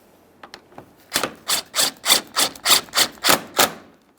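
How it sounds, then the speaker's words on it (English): Headlight mounting bolts on a 2015-2020 Ford F-150 being snugged down make a rapid series of about ten evenly spaced, loud mechanical clicks, close by and with no talk, after a few quieter taps at the start. "Once all three pieces of mounting hardware are started in, go ahead and snug them up"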